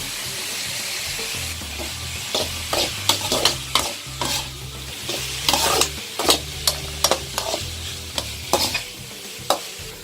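Onion, ginger, garlic, green chili and curry leaves fry in a pan with a soft steady sizzle, punctuated by a string of sharp spatula scrapes and clacks against the metal, close up and without speech.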